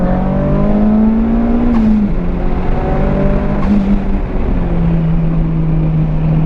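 A Mitsubishi Lancer Evo 5 on a flying lap amid lap traffic: a loud, close engine pulls hard and rises in pitch, drops with two quick gear shifts, then keeps pulling at a steady roar.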